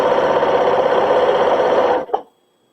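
A sewing machine stitching quilt blocks runs in a fast, steady whir for about two seconds, then stops with a brief clunk and falls silent; close and loud.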